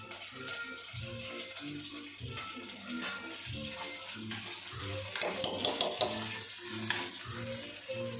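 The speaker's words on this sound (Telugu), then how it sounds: "అన్నీ వేసుకొని ఫ్రై చేసుకోండి." Garlic, dried red chillies and curry leaves frying in a pan, a soft steady sizzle under repeated stirring and scraping, with a few sharp clinks near the middle, fairly quiet and close.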